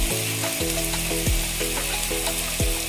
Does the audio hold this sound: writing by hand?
no